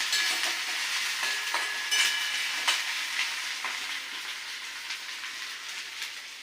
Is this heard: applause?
no